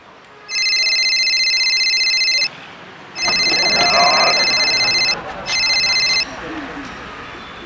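A telephone rings in three electronic bursts, the last one shorter, loud and near over a steady background hiss.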